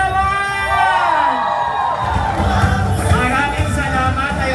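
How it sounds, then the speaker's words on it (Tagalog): A crowd at a town anniversary street celebration in Pasig, Philippines shouts and cheers loudly, voices swelling over a busy outdoor din, with someone talking over the noise at the start. "isang malakas na hiyawan"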